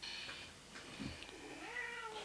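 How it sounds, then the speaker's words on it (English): A house cat meows softly, a faint rising call near the end amid quiet room noise. "I guess you can hear my cat as well. He is talking all the time."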